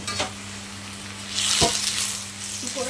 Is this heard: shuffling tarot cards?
no